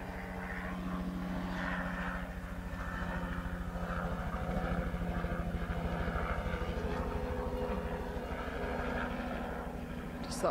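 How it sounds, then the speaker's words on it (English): A helicopter passes overhead outdoors at sunrise near a hyena den, a steady loud rotor and engine drone holding for the whole stretch. "Just thought I'd wait until the helicopter flew over."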